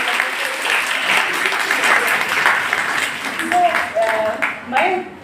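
An audience at an institutional talk claps loudly and steadily for a marathon runner, the applause filling the room while a voice speaks over it near the end.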